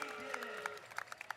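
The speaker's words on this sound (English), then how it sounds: "another standing ovation by the crowd in the area as they go right down the street" Crowd applause rising along a street at a community festival parade as Rosie the Riveter honorees pass by, a steady patter of clapping with a few sharper claps standing out, fairly distant.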